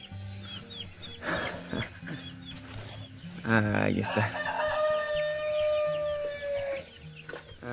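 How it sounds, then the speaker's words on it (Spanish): A small chick peeps in thin, high chirps, including one long drawn-out cheep, while someone speaks briefly nearby. "Se ha perdido este pollito."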